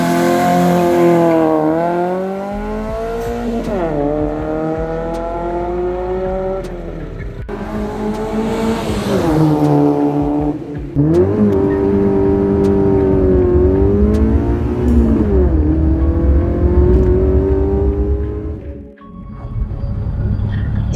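Modified Suzuki Swift Forza 1 with a twincam engine, driven hard with repeated rising revs and gear changes, loud and close, climbing and dropping in pitch before a brief lift-off near the end.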